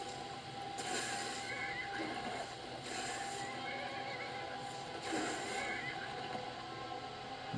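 A horse whinnies in Skyrim, two loud shrill neighs roughly four seconds apart over steady background game ambience, close and clear.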